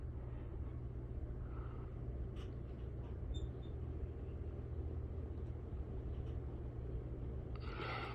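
A Harbor Breeze Lansing ceiling fan set to high speed gives off a steady, low, rumbling whoosh of moving air. The hum holds constant and close throughout, with a few faint clicks and rattles.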